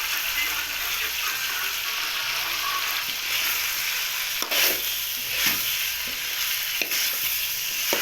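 Chicken fries in a pan while salt is added for a chicken curry, giving a steady, loud broadband sizzle throughout, broken by a few sharp scrapes and clicks near the end.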